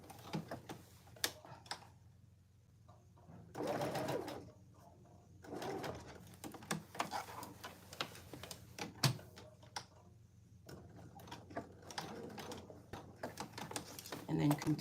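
A sewing machine stitches a bar tack on homemade cargo pants in rapid mechanical bursts separated by short pauses, with small clicks and handling noises between runs.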